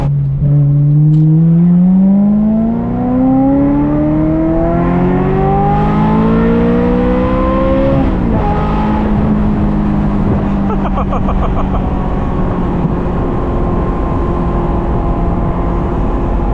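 A 1998 Ferrari 355 F1 engine revs loudly and climbs in pitch through the gears, dips at a shift, then cruises with a steady high-pitched drone from inside the open-top car.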